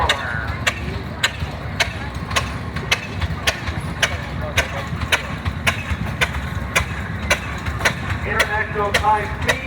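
A 1941 John Deere H tractor engine chugs steadily in a historical association tractor parade, a low, even, rhythmic running note with regular sharp ticks and crowd voices and an announcer heard faintly behind it.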